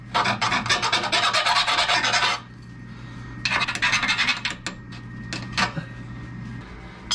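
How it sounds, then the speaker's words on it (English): Rough edges of a TeraFlex SpeedBump for a Jeep JKU being ground, loud harsh rasping in a long burst, then a pause, followed by shorter bursts and scattered scrapes, close up with no talking. "So I'll quickly grind."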